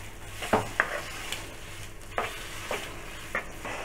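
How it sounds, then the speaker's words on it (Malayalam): A spoon stirs a sweet potato burfi mixture in a pan, making soft periodic scrapes and light knocks over a quiet, steady sizzle. "കുറച്ച് നേരം നമ്മളിത് നന്നായിട്ടൊന്ന് ഇളക്കി കൊടുക്കണം"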